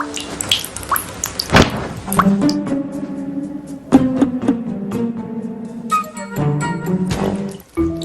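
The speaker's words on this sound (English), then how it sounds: "I find the sound of a dripping faucet to work really well." A dripping faucet plinks in irregular, close drops with occasional louder thunks and watery splats, set loud against a quiet background with no voices.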